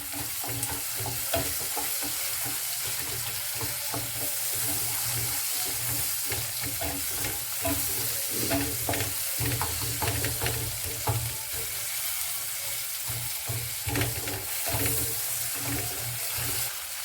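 Tomatoes fry in a pan with a steady, loud sizzle and occasional stirring scrapes throughout, with no talking.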